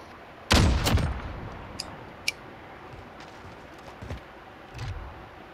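Single loud sniper rifle shot in a snipers-only video game match, followed by a sharp ringing ping and a few fainter distant shots and thuds, no talking.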